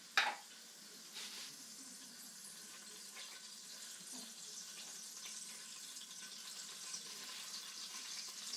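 Cumin seeds sizzling in hot oil, a soft steady crackle throughout with a sharp clatter at the start, faint and close.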